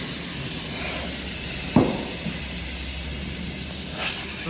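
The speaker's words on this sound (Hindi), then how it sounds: "उसके बाद इसको हवा निकाल देते हैं।" Air hisses out of a car tire at a tire-changing machine, a steady close spray with a sharp burst partway through and another swell near the end, over a constant background hum.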